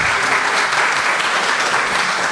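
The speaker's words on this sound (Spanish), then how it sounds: "Creo que merece por lo menos un aplauso" Steady, dense audience applause in a lecture hall following a presentation, loud and continuous with no break across the whole stretch.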